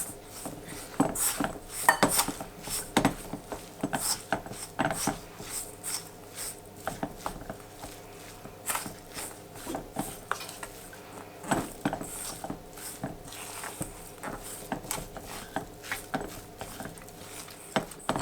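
Parmesan and mozzarella stuffing is stirred in a bowl, with scattered clinks and scrapes of a utensil against the bowl, quiet and irregular, alone.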